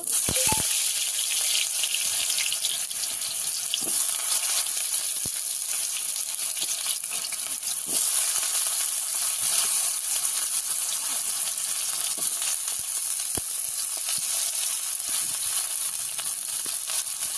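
Steady, bright sizzling hiss of fish frying in hot oil in a kadai, continuous throughout with occasional faint clicks.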